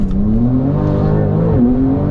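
A Porsche 911 Turbo S (992) engine roars hard as the car launches, its steady rising drone dipping briefly at a gear shift before climbing again.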